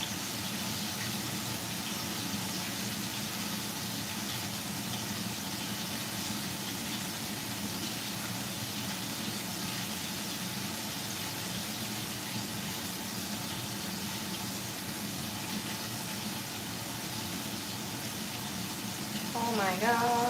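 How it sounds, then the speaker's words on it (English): Flour-dredged chicken thighs fry in a pan of hot oil, giving a steady, continuous hiss and crackle that runs throughout without a break and swells slightly at the very end. "You guys hear that sizzling? That is our delicious chicken."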